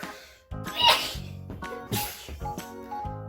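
A single sharp sneeze bursts out near the start, followed by soft voices and household sounds.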